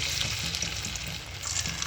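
Onion pakodas made from a batter that is too thin sizzle in hot oil, giving a dense, steady frying crackle close to the pan with no one speaking.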